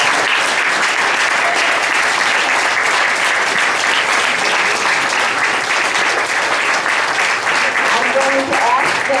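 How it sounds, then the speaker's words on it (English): Sustained, dense applause from a large crowd at a leadership awards ceremony, loud and even throughout with no pauses. "let's please give our award winners another round of applause."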